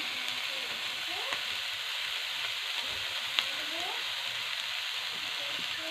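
Winter vegetables and greens fry in a pan with a steady, close sizzle throughout, broken by occasional stirring scrapes and faint clinks.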